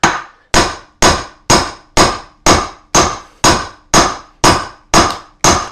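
Loud, close, metal-on-metal blows of a hammer on the back of an axe wedged into a willow log to split it. Evenly spaced strikes roughly twice a second, each a sharp clang with a short ringing tail, no speech.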